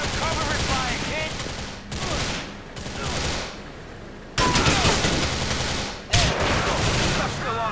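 Dense, continuous gunfire from a firefight in GTA IV, loud rapid bursts layered with booms and brief pauses, with a voice shouting over it.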